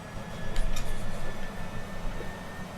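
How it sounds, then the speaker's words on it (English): A Cessna Citation CJ4 business jet's engine spooling up during startup in Microsoft Flight Simulator, a low steady rumble and whine with a couple of brief higher clicks early on, fairly quiet. "Looks like we have some good startup here on engine right."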